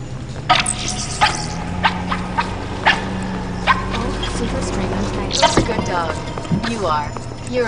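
A dog in the VR game The Lab gives a run of short barks and yips at a steady pace, fairly close, over a continuous hum of game music and ambience, with a brief whimpering call near the end.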